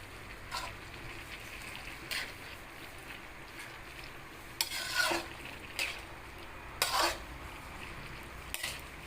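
Bihon noodles stirred in a pan, quiet soft scraping and sizzling with intermittent louder spatula scrapes against the metal, mostly alone.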